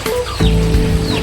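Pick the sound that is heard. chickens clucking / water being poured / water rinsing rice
chickens clucking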